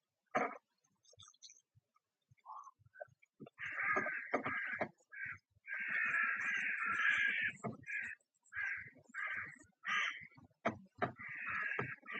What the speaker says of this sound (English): The birds are upset